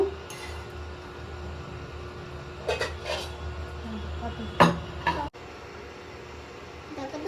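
A metal lid clanks onto a pot of milk semai on an induction cooker, giving a few sharp clinks and one louder clatter amid quiet kitchen handling, with soft speech in the background.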